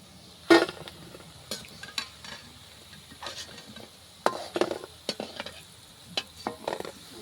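Palm fruit fritters (taler bora) fry in hot oil, a soft sizzle broken by clinks and scrapes of a utensil against the pan at irregular intervals.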